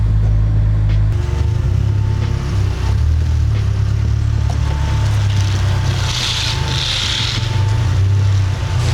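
Steady low engine and road rumble from a lifted 2023 Subaru WRX on rally-style wheels while driving, with wind and tyre noise filling the cabin throughout and no talking.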